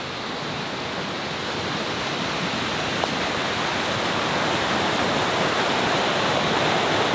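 Small waterfalls in a Bali jungle rush with a dense, steady roar of falling water, loud and close, continuous without pause and with no voices.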